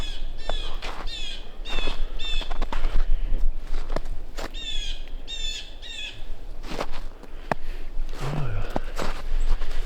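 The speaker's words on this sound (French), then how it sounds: "Dans les arbres, il y a des mésanges devant nous." Small tits call from the trees in quick, high chirping bursts along a woodland hiking trail, with other birds squawking around them and footsteps crunching close by.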